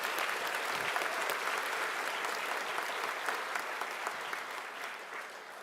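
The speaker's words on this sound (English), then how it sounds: "I want to tell you you can clap for them." A graduation audience for Santa Fe South Pathways graduates breaks into dense, steady applause that fills the room, many hands clapping together at an even level from start to finish.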